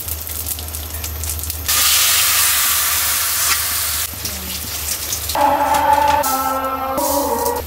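Dry chillies hit hot mustard oil and sizzle loudly in a sustained, rain-like hiss that flares and then eases, with people talking over the cooking afterward.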